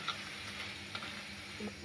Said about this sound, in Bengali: দেখুন কীরকম ভাজা হচ্ছে